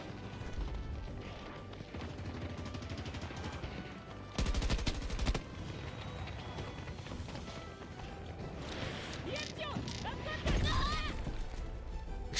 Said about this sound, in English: It's an LMG.